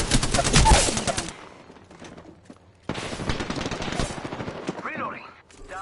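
Rapid bursts of gunfire from an Apex Legends match, loud and dense at the start, then fading. More shot bursts return later, mixed with game callouts.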